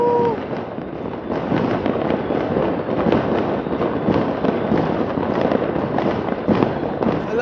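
New Year fireworks explode in a cold winter night in Croatia, a dense, continuous barrage of crackling bursts and booms, some near and some distant, with a faint voice cheering.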